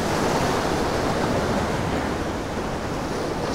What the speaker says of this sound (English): There's a big wave coming in here now, so I want to shoot this as this water rolls in.